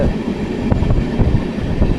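From inside a moving passenger carriage, a train runs with a loud, steady low rumble and faint rhythmic wheel clatter, with no voices.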